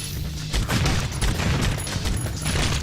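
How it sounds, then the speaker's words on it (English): A grenade launcher firing in the game Zombie Shooter: repeated booming blasts and explosion rumble rolling on for a few seconds, loud, dense and steady throughout. "grenade launcher."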